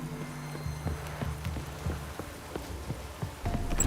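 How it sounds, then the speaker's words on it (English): Rain falling in a video game, a steady patter on surfaces beneath rhythmic hoof-like thuds and low ambient tones, with no voices. "Looks like rain."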